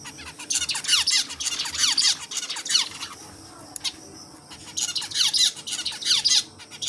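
Birds building a nest give repeated shrill squawks and squeaks in quick bursts, with short pauses between the bursts.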